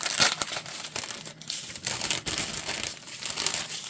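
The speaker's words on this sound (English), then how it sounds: "Sorry for the crinkling." Plastic bags crinkle and rustle nearby, a steady, loud stream of crackling handling noise with brief bursts and pauses throughout.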